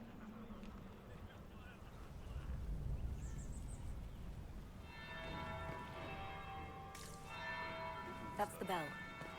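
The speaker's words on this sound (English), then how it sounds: "That's the bell." A bell rings in the video game Dragon Age: Inquisition, tolling clearly in the second half over a low ambient background, with a voice speaking earlier.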